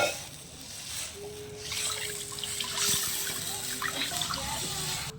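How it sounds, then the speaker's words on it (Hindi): Turmeric-tinted yogurt batter, strained through a sieve, is poured into a pan on a cooking fire, giving a soft, continuous trickle of liquid over a few seconds. "फिर घोल डाल देंगे इसमें।"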